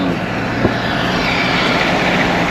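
Steady droning engine noise of a small propeller plane, constant and fairly loud throughout with no voices.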